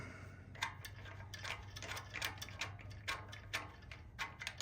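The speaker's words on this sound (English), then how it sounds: "So I'm just gonna back these studs back a little bit." Quiet, rapid ratcheting clicks come from backing out carburetor studs on a Hipa engine, an irregular run of small metallic ticks over a low steady hum.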